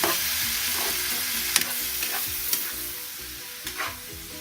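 Chicken afritada is stirred in a sizzling pan, with a constant close frying hiss under scraping utensil strokes and a few sharp clinks against the pan.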